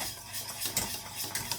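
Choux pastry dough stirred in a pan with a utensil, soft close scraping with a few light clinks against the pan, no voices.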